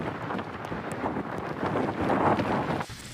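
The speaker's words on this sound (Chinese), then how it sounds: "太麻里市区风雨有够大，阵风达到14级。" Typhoon wind and rain lash the town of Taimali in Taitung, with gusts reaching level 14: a loud, continuous roar of wind buffeting the microphone, swelling slightly before easing at the end, with no talking.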